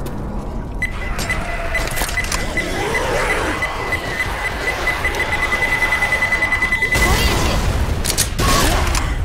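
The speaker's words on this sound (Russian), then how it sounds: "Граната!" A grenade detonates in the Left 4 Dead zombie shooter game: loud, sharp blasts crack near the end amid a busy bed of gunfire, mechanical clatter and rumbling game noise.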